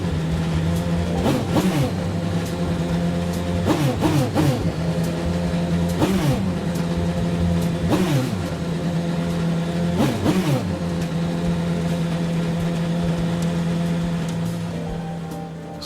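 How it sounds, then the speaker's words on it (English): Inside the Gran Turismo 7 racing game, a BMW M Hybrid V8 engine drones steadily and swells into five evenly spaced rev blips, sharp rises and falls over a constant loud hum, with no one talking. "that is the sound of the BMW M Hybrid V8."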